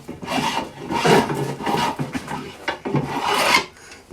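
A file rasps across the corners of a wooden bow to chamfer its rectangular cross section, close and loud, in uneven back-and-forth strokes with short breaks between them.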